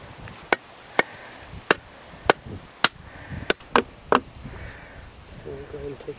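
Sharp percussive blows ring out at a steady pace, about eight hammer strikes close by, with faint insect chirping and a brief voice at the end.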